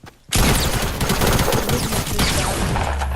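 Loud gunfire fills a Fortnite match, with pump shotgun blasts and rapid bursts running together into a dense, continuous volley after a brief quiet start.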